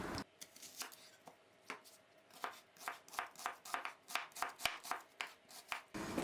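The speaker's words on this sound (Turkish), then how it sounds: "Şimdi soğanlarımı doğrayacağım." A knife chops onions steadily on a cutting board, a quick run of sharp, close taps that speeds into a brisk, even rhythm with no talking.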